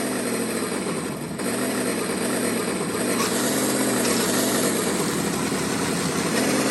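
A remote-control car fitted with an add-on sound system plays a monster-truck-style engine sound that bogs down while reversing, a steady, loud, close engine drone that holds without a break.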